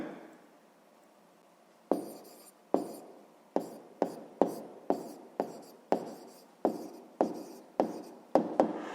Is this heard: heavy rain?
no